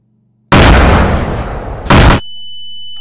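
A loud burst of gunfire in the video game Garry's Mod, an abrupt blast that fades over about a second and a half, then a second short crack, followed by a steady electronic tone.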